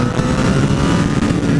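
Loud, close roar from a 2014 Honda CBR 1000 RR Fireblade motorcycle accelerating, a dense continuous engine growl with no break and no voices.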